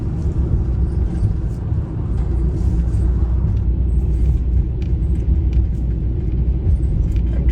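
A car drives along a road at night, its steady low engine and tyre rumble filling the cabin continuously and evenly, with no talk heard.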